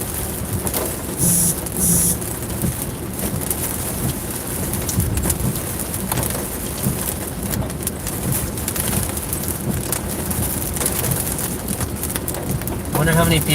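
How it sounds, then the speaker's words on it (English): Heavy rain drums steadily on a car during a drive toward the highway, a dense continuous hiss throughout with a few brief higher chirps and low rumbles mixed in. "The rain is pretty heavy."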